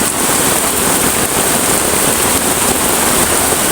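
Heavy rain pours down at a campsite during rugged, ranger-style camping. A loud, steady, dense hiss continues without a break from start to finish.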